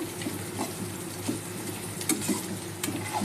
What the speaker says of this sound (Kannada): ಸ್ವಲ್ಪ ಫ್ರೈ ಆಗೋವರೆಗೂ ಕೈ ಆಡಿಸ್ಕೊತಾ ಇರಿ